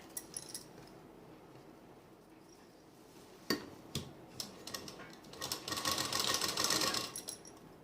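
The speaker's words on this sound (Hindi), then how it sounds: "साइड की फिटिंग सिलाई लगाने से पहले मैं यहाँ पे इसमें सिलाई लगा लूँगी लाइनिंग के ऊपर" A sewing machine stitches the lining of a suit, running in short bursts before a longer, louder continuous run of close stitching, with no talking.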